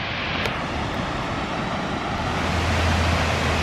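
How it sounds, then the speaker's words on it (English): Buttermilk Falls, a waterfall in New York State, pours with a dense, continuous roar heard up close, growing slightly louder toward the end with no voices over it. "But first, waterfalls."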